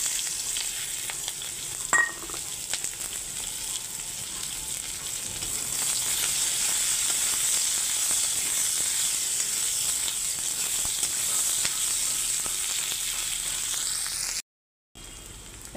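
Five-spice seeds, two bay leaves and onion sizzling in hot oil for a fish-head and Malabar spinach dish, a loud, steady hiss that swells midway and runs on, with an early clink and a brief cut near the end.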